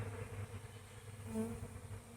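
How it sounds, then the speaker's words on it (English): A swarm of bees flying outside near a house makes a steady, low droning buzz that hums on throughout with a slight swell in the middle, moderately loud and without speech. "it looks like we've got a bee swarm."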